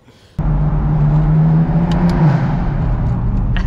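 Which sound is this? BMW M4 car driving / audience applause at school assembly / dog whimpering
BMW M4 car driving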